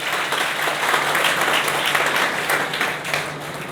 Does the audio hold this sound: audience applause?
yes